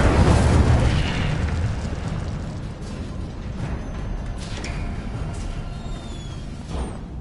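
Incendio fire spell cast in the game Hogwarts Legacy, a loud burst of roaring flame that rumbles and slowly fades over several seconds, with faint whooshing effects near the end.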